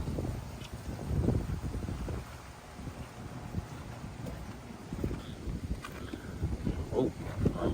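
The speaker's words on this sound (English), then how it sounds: "It's a pretty strong gust." Strong wind gusts during Hurricane Milton, a rough low roar buffeting the microphone in surging bursts, with rain driving at the listener outdoors and the storm swelling and easing over several seconds.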